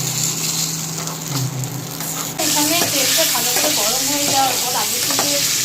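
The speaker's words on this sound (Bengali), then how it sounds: "ডিমের ভেতরের যে লিকুইড অংশগুলো আছে যেগুলো ওগুলো ফ্রাই হবে" An egg fries in a pan with a hissing sizzle that turns louder and crackly partway through, joined by bubbling pops and light scraping of a spatula.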